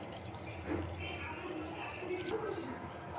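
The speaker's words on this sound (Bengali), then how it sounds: "এখন আমি দিয়ে দিচ্ছি পরিমাণ মতো পানি।" Water pours into a pot of rice being cooked for chicken biryani, a steady, close, continuous splashing and trickling rush lasting a few seconds over a low background hum.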